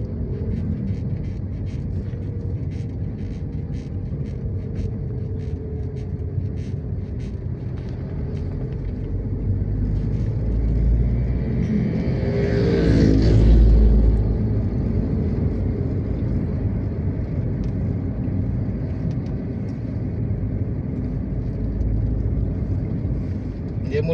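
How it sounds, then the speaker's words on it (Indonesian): Dense late-afternoon traffic rumbles along Jalan Lintas Timur between Palembang and Lampung, a steady low roar of passing vehicles with one heavier vehicle swelling louder as it goes by midway. "Sangat padat sekali kendaraan di sore ini di Jalan Lintas Timur Palembang Lampung"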